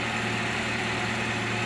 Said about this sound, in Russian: Вот так вот двигатель работает.